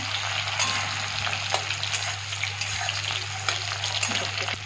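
Onion frying in a pan gives a steady, dense sizzle and crackle that goes on without pause, close and moderately loud, with a few faint clicks.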